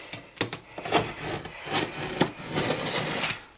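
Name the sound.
utility knife cutting along lines on backing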